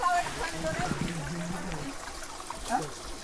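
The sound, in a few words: cool water flowing from a hill spring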